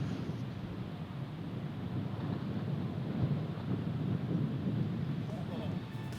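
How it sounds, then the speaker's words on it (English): Strong wind buffets the microphone on a golf course during a Yorkshire championship, a loud, continuous low roar with gusty swells lasting throughout and no other sound rising above it. "You can see how windy it is out there"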